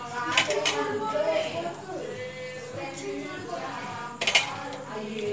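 A spoon or whisk stirs egg with salt, chili powder and garam masala in a bowl for a brown bread omelette, with light, continuous clinks and scraping and a couple of sharper taps while someone talks.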